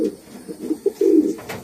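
A thief pouter pigeon coos close by, a few soft low throaty pulses building into one longer, swelling coo, with no talking.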